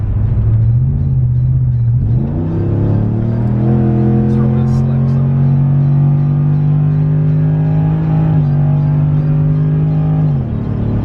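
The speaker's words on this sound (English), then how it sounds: "I'm gonna floor it again right here real quick. Just punch it." A pickup truck fitted with an FRP 65RFE torque converter accelerates hard at full throttle on the street. The deep engine drone climbs steadily through a gear change and holds a loud, close, sustained pull.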